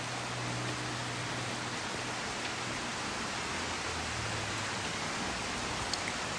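Steady, even hiss of rain pattering on a tent, continuous and unbroken throughout, with no voices.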